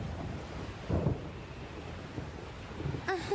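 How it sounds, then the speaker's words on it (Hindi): Sudden storm in a Doraemon cartoon, a low rumbling wash of wind with a couple of heavier thunder-like swells, moderately loud and steady, with a brief tonal sound near the end. "अरे, ये अचानक तूफान कहाँ से आ गया?"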